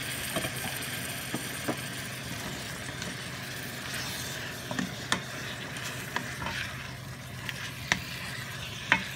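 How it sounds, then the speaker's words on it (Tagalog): Chicken tinola with fish sauce, ginger, garlic and onion is stirred in a pot over a steady low sizzle, with soft scattered scrapes and clicks from the utensil. "Haluin natin ng kaunti. Ang bango na, patis tsaka ano, luya, bawang, sibuyas."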